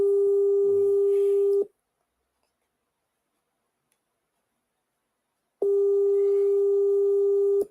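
Two long ringback tones on a phone line, each about one and a half seconds, separated by about four seconds of silence, with the call going unanswered.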